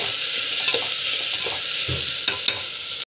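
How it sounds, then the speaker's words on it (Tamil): Beetroot sautéing in a pan, a steady loud sizzle with occasional stirring scrapes and clicks, ending in an abrupt cut. "ஸோ ஜஸ்ட் வந்து வதக்கிக்கலாம்."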